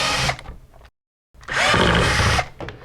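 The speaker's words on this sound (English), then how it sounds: "What we will do is remove the mounting screws." A power drill backs out the mounting screws of a WFCO WF-9855 RV converter, two loud sustained whirring bursts close up, separated by a short silence.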